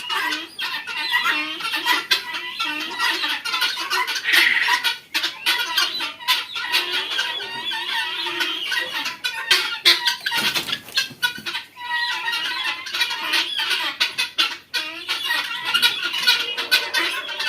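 Chinese-breed chickens on a farm in Bakshiganj, Jamalpur, cluck and call continuously at close range, many birds overlapping with occasional louder squawks.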